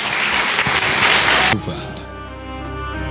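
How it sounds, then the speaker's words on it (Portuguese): Applause at a Baptist church congress, a loud dense burst of clapping that cuts off after about a second and a half, followed by a voice and sustained music. "Vamos recebê-lo com as palmas em nome de Jesus"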